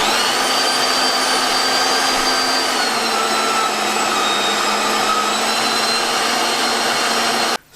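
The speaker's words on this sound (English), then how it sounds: "Now I need to cut my beef into bits that will go through the mincer" An electric meat mincer grinds beef through a medium plate, a loud, steady motor whine with layered high harmonics that runs continuously without pause before cutting off abruptly at the end.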